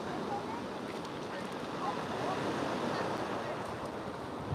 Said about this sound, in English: I'm just looking at all these waves